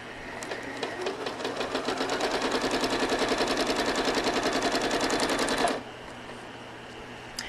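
A home sewing machine runs steadily while quilting fabric guided by a ruler, its fast rhythmic needle chatter close and continuous for several seconds before stopping abruptly, leaving a low hum.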